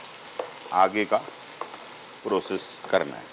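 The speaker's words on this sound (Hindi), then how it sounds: "बीफ को हल्का सा फ्राई करना है, कलर चेंज हो जाए" Beef stir-fries on high heat with a soft, constant sizzle in the background while a person talks over it.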